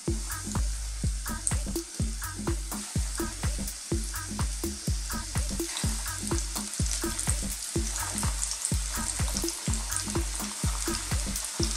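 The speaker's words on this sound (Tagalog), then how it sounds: "Ngayon, rarekta na natin ang pagpiprito." Breaded chicken breast pieces deep-frying in hot oil for Filipino orange chicken, a loud, steady sizzle broken by rhythmic crackling bursts and stirring, close and continuous with no talking.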